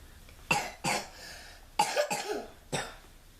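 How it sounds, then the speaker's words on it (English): Four short, dry coughs in an irregular cluster, fairly faint and close, with quiet pauses between them. "That's who you heard coughing just now"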